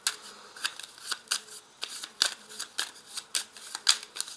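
A deck of petit Lenormand cards is shuffled by hand close up, making a quick run of crisp, rhythmic riffling snaps and flutters that repeat steadily throughout, with no talking.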